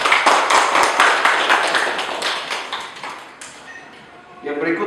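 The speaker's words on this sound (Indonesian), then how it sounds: "Tepuk tangan." Clapping from a classroom of students, a dense patter of many hands for the first few seconds that thins and fades, with a voice starting up near the end.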